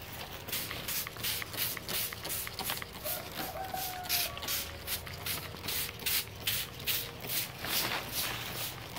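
Pump sprayer misting 30-day-old greenhouse tomato plants, a steady rhythmic series of soft hissing spray bursts repeating roughly every half second, close and continuous with no talk.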